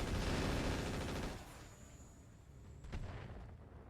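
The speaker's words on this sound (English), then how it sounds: "They're going to hit themselves with their mortar." Mortar fire and explosions in the mech video game RogueTech, with a loud, dense rumble of blasts at the start that drops to a lower roar, then another sharp explosion hits near the end.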